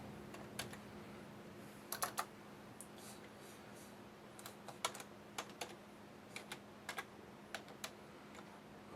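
Keys tap on a computer keyboard in small irregular bursts as a name is typed, close and quiet over a faint steady hum, with no one speaking.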